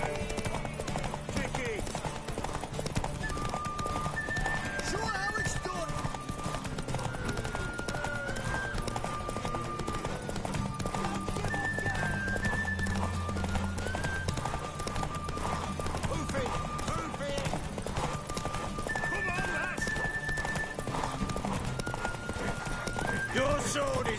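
Horse hooves clip-clop at a steady gallop with a couple of whinnies, set against busy game music and people talking, in The Witcher 3: Wild Hunt on PS5.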